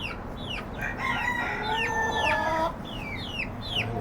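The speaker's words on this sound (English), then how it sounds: "You hear the neighbor's rooster over the" A neighbor's rooster crows over the fence, its call a little distant and mid-loud, repeated in several quick rising-and-falling bursts with some clucking against a quiet background.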